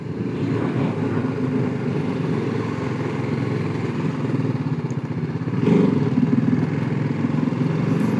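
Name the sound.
motorcycle riding through narrow streets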